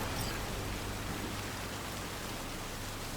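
Steady, dense rain from the video game Cyberpunk 2077 falls as an even hiss with a low hum beneath it, heard alone and unbroken throughout.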